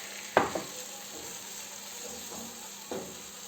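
Quiet, steady sizzle of cheese melting in a hot pan for Turkish mıhlama, with a few soft clinks of a utensil stirring against the pan.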